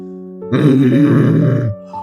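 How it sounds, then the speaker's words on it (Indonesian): A cartoon tiger's hungry stomach gives one loud, low, rumbling growl, close and prominent for about a second. "Perut Tora berbunyi keroncongan."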